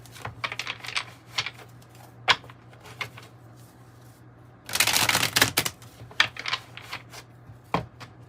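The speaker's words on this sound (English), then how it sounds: "let me get this deck a little shuffle." Rapid clicking and riffling of cards being shuffled close up, with a longer burst of flicking in the middle and scattered taps around it.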